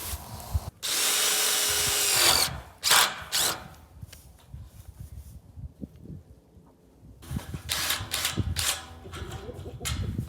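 A cordless power drill drives sheet metal screws through strips against sheet metal, several loud close bursts of whirring that start and stop, separated by handling clatter and quiet gaps.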